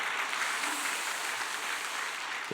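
A church congregation applauds the choir after a hymn, the clapping faint and steady as a dense wash of hand claps filling the sanctuary for a couple of seconds.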